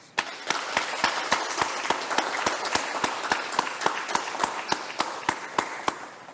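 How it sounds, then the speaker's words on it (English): Applause for students at an honors college convocation in a sparse room, with sharp, evenly spaced claps standing out over a steady wash of clapping for about six seconds. "I'd like for those of us here to give all these students a round of applause"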